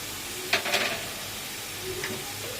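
Sago, capsicum, carrot and potato fry in a pan with turmeric and salt, giving a steady low sizzle with a couple of brief scraping stirs near the start and one later.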